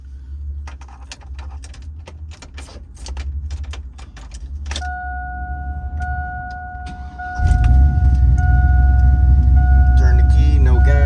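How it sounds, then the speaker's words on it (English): A 2000 Chevrolet Silverado with a Truck Norris camshaft cranks and fires up after keys jingle and a chime sounds, then settles into a loud, rumbling idle close by. "I'm gonna start it up now."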